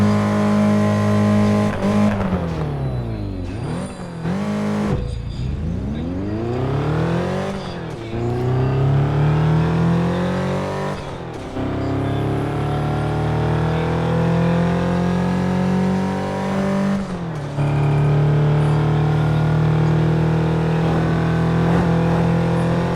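A car engine in Test Drive Unlimited 2 revs up repeatedly, its pitch climbing steeply through the gears with several shifts and drops before settling into a loud, sustained high-speed drone, close and steady.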